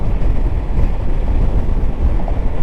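A 2024 Honda ADV 160 scooter ridden at speed on a delivery run, heard as a dense, roaring rush of wind buffeting and engine drone, loud and continuous throughout.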